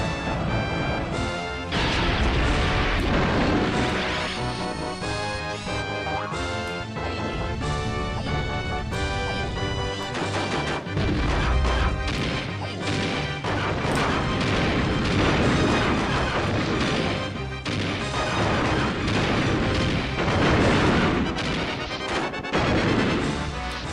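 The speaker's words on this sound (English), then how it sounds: "I love Armadillo sounds. When he gets hit, it's so fun." Explosions during the Armadillo boss fight in Donkey Kong 64, loud repeated booms and crashes layered over busy game music and effects, recurring throughout with dense bursts every few seconds.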